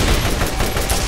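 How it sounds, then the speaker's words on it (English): Rapid automatic gunfire from a deployed turret in the shooter game Borderlands, a dense, continuous rattle of shots close and loud for about a second with no talk over it. "I'm gonna put down my turret too."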